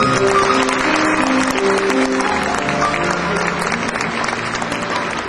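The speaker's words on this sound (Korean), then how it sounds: "박수로 환영해 주시죠." Applause from the audience at a 2004 university entrance ceremony welcoming a vice president to the stage, a steady crowd clapping that fades slightly toward the end, with faint musical tones underneath.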